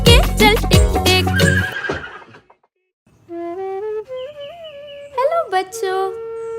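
A horse whinnies loudly amid a sung Hindi children's rhyme about riding a horse, followed by a short pause and a stretch of steady, stepping tonal sound.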